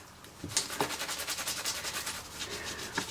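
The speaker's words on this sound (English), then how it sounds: "we'll wipe that off with our microfiber cloth" Microfiber cloth rubbing across a stencil design on card, a quick series of rhythmic brisk swishing strokes, close and clear with a couple of light taps.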